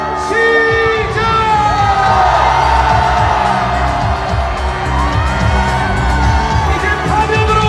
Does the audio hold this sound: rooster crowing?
no